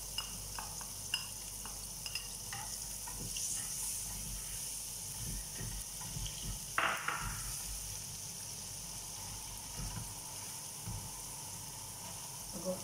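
Garlic frying in oil hisses and sizzles steadily, with occasional stirring scrapes and a sharper crackle partway through, close and moderately quiet.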